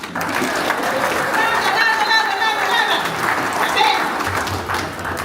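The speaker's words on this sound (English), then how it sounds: "Everybody clap." Applause from an audience at a Samoan family celebration show, steady and dense for about five seconds, with voices calling out over the clapping.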